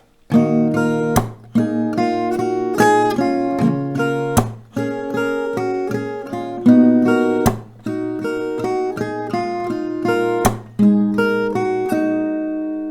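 An acoustic guitar picks a repeating riff of ringing notes from the drop section of a song, with sharp percussive slaps between phrases, steady rhythm, close and without voices.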